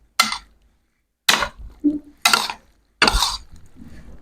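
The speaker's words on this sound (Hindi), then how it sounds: "इसको मैं पहले अच्छी तरीके से मिक्स कर लूँगा ताकि मसाले अच्छी तरीके से मिक्स हो जाएं" Spices being mixed into chana chaat in a bowl, heard as four short bursts of scraping and stirring, close and fairly loud, with quiet pauses between them.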